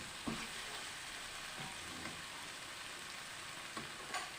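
Masala with yogurt and green chillies being stirred in a pan for bhindi masala, giving a faint steady sizzle with a few soft spoon scrapes at intervals and no talk.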